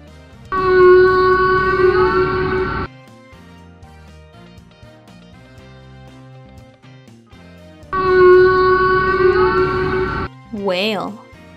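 A whale calls in two long, loud tonal bursts with wavering harmonic moans, separated by a quieter gap with faint background music, then a short rising and falling cry at the end.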